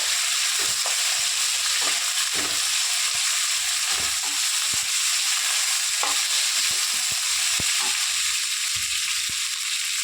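Sliced ivy gourd frying lightly in oil for a spicy onion curry gives a steady, close hiss with soft irregular clicks and stirring taps throughout, and no talking.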